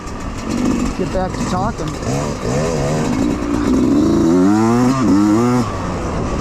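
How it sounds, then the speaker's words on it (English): Motorcycle engine revving as the rider climbs a short uphill on an MSHS Maniac Mountain dirt bike trail, running steadily throughout with a rider talking over it from close by. "A little uphill. Obviously, you can tell by my engine sound."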